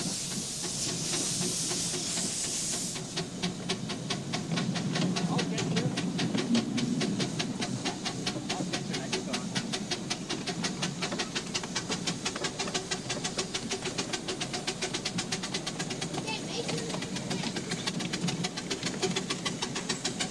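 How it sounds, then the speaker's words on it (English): A miniature light railway train pulls away from the departure platform at Wayside in 1989. A loud steam hiss opens, then steady rapid rhythmic clatter and rumble continue throughout with no voices. "let's join a train as it leaves the departure platform at Wayside."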